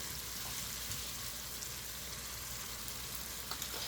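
Tomato and egg curry cooking down in a pan, a continuous close sizzle and bubbling with faint crackles, steady in level from start to finish.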